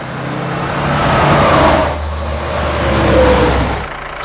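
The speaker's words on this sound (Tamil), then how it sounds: "வண்டி கிளம்புது வரட்டா" A vehicle engine runs loudly nearby, rising in a pull-away surge and settling as it drives off, with a steady low rumble throughout.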